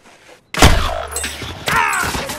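Gunfire in a first-person shooter video game: one sudden loud shot-like blast after a brief quiet moment, then a ringing tail and a second rougher burst.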